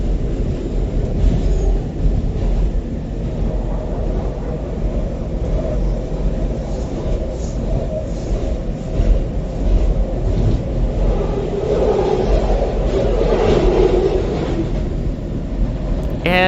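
A SEPTA Market-Frankford Line train runs in the median of I-95, giving a continuous loud low rumble and rail roar that holds steady throughout, with no clear speech.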